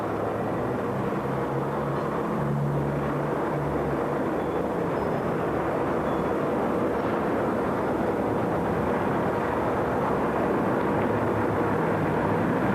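Norfolk & Western and Southern diesel locomotives, including GE C39-8 units, roll past in a loud, continuous low rumble and roar with steady rolling wheel noise, holding strong throughout.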